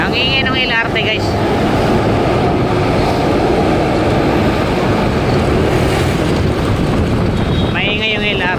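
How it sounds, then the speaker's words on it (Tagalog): A noisy LRT train passing close by fills the air with a loud, continuous rushing roar for several seconds, with brief voices at the start and the end. "Ang ingay ng LRT guys."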